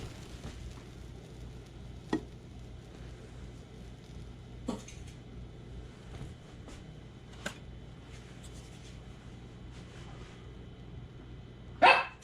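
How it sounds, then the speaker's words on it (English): A hungry dog barks in a kitchen while pancakes are cooked, several short sharp barks spaced irregularly and fairly faint, over a low steady background hum, with one louder bark near the end. "Got my dog barking at me."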